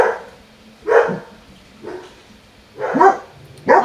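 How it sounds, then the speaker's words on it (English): A dog barks in a quiet indoor room, four loud, close barks spaced about a second apart, with no talking over them. "Apologies for the dog."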